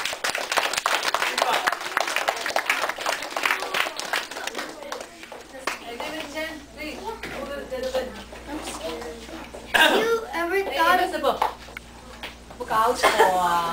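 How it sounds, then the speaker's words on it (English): A classroom audience gives a short round of applause for a 5th and 6th grade debate team, with brisk clapping in the first few seconds that gives way to a voice talking over a quieter room. "give them a round of applause."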